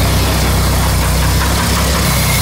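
An old truck engine, abandoned and undriven for 30 to 40 years, idles loud and close with a steady, rough mechanical rumble and faint knocking throughout.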